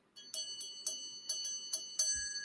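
A small rubber duck bell rings in a quick run of about seven bright, metallic tings, evenly spaced and close, each ringing briefly before the next.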